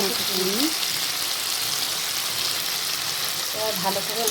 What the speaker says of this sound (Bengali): মশলাটা ভালো করে নামিয়ে আমি কষিয়ে নেব এভাবে কিছুক্ষণ আমি কষাতে থাকবো